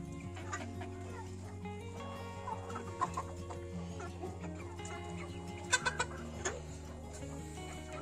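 Hens cluck inside a backyard coop-within-a-coop, with steady low farm-animal calls, a few sharper peaks, and a constant murmur of bird chatter throughout.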